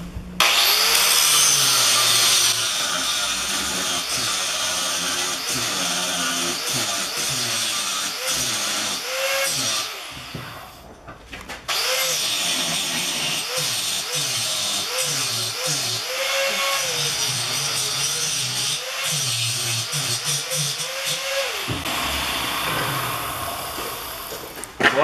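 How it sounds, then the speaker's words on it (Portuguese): A power grinder whines and rasps against a metal lathe tool in long continuous passes, removing excess weld metal, loud and close, with a brief pause midway. "Então eu tiro tudo com a lixadeira"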